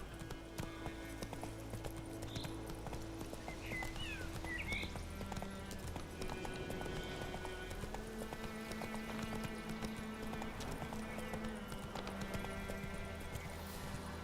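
Roach the horse gallops in The Witcher 3, a steady rhythmic clip-clop of hooves running under a low game soundscape, with faint whinny-like calls near the start.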